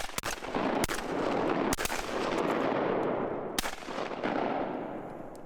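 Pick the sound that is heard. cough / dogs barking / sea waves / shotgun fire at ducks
shotgun fire at ducks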